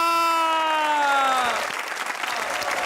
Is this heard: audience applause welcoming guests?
yes